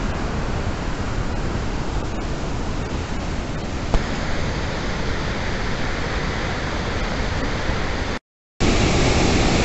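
Water pours through the lock gates of the Teesta River barrage at Gajoldoba in a steady, loud, broadband roar. It continues without letup apart from a brief cut near the end.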